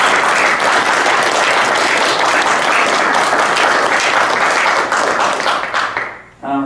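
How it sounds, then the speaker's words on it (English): A school gathering at a senior signing day for student athletes breaks into loud, dense, sustained applause that fills the room, then abruptly fades near the end as a voice begins. "So if you wouldn't mind giving them applause."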